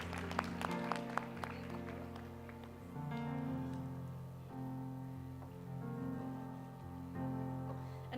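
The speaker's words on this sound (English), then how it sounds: "Another round of applause for Anne-Marie and for Rian" Audience applause fills the hall at a university distinguished alumni awards ceremony, a short patter of claps up front before soft music carries on.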